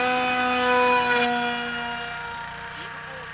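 Steady electric whine of a Mini Skyhunter RC plane motor at low throttle, close by, with sustained tonal harmonics that slowly ease down in level.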